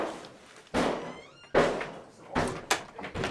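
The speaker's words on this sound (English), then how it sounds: "the officers have forced entry to one of the bedrooms" Officers forcing entry to a bedroom door: several heavy, loud thuds and bangs in quick succession, each a sharp impact with a short rattle, close by in an indoor room.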